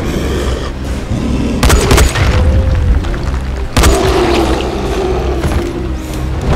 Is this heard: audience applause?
no